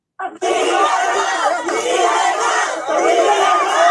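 A large street crowd surrounding police officers shouts and chants in unison, a loud, dense roar of many voices that starts abruptly and holds steady throughout.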